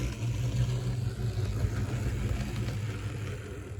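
The motor of an HO scale model train engine runs with a steady, fairly loud buzzing whir, continuous and close with no talking.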